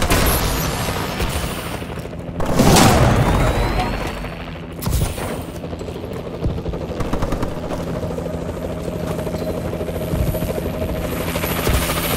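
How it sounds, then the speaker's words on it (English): A friendly Warbird helicopter in Call of Duty: Advanced Warfare drones loudly and continuously through a multiplayer battle, its rotor roar mixed with bursts of gunfire and a passing whoosh near the start. "Friendly warbird in the air."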